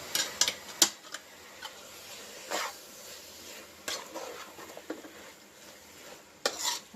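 Capsicum frying in a pan while being stirred, with scraping utensil strokes and clinks over a soft, steady sizzle, close and moderately loud with no talking.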